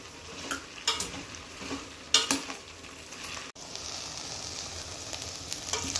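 Okra and curry leaves sizzle steadily in a pan, with a spoon scraping and stirring in loud intermittent strokes over the constant close frying hiss.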